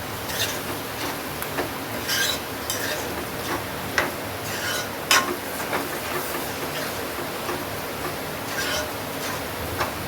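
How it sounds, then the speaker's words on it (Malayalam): Beef roast being stirred with pepper powder and garam masala, a steady scraping and rubbing in a pan with soft sizzling underneath and a few sharper clinks of the spoon. "ഈ കുരുമുളക് പൊടിയും ഗരം മസാലപ്പൊടിയും കൂടെ ചേർത്ത് നല്ലോണം ഒന്ന് മിക്സാക്കി നല്ല ഇളക്കിയെടുക്കണം"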